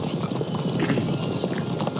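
Horse hooves clip-clop continuously in a Napoleon: Total War battle as cavalry moves across the field, a dense, steady trampling amid a busy wash of battle noise.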